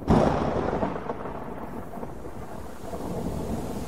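A sudden thunderstorm opens with a loud rumble of thunder that rolls on into a steady wash of falling rain, close and full, with no speech.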